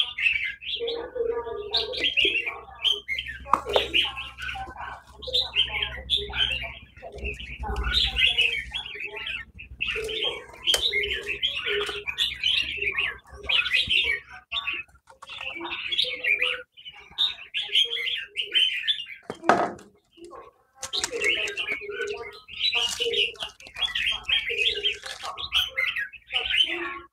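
Red-whiskered bulbuls sing in a lively, continuous run of bright chirps and warbling phrases, close and fairly loud, with faint low background hum and only a brief pause near the end.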